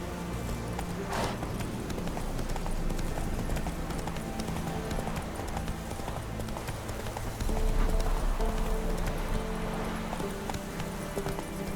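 Hooves of the horse Roach clip-clop steadily in The Witcher video game, a continuous rhythmic trotting with scuffing footfalls that carries through the whole stretch.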